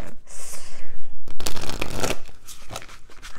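Oracle card drawn from a deck by hand: a few brisk papery shuffling and sliding sounds, close and fairly loud, in short bursts with pauses between.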